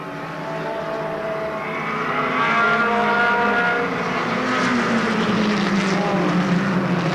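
Mini race cars roar around the oval at Monadnock Speedway, several engines droning and shifting pitch together in a loud, continuous pack with no break.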